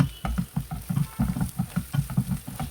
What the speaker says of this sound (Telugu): ఇప్పుడు ఇందులో కరివేపాకు వేసుకోవాలి